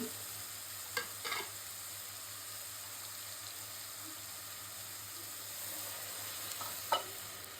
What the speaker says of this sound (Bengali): পানি দিয়ে একটু ভাজা ভাজা করে নিন